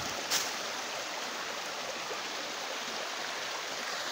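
A waterfall and stream run over bedrock and pools outdoors, making a soft, even rushing hiss that holds steady throughout with no break or variation.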